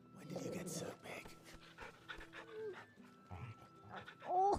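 Torgal, a large dog in the Final Fantasy XVI video game, pants in quick rhythmic breaths with soft whimpers, heard close up under a woman's ongoing chatter and game sounds.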